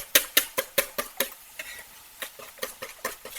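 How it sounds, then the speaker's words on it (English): Four eggs are whisked together in a bowl for gluten-free sausage balls, a series of sharp, close clicking strokes in two short bursts with a brief pause between. "I've got my 4 eggs here. I'm just going to whisk them together a bit."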